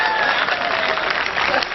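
Brisk applause from an audience at a Hindi poetry recital (kavi sammelan) in Baidhan, Singrauli, a short dense burst of clapping that stays loud and steady from start to finish.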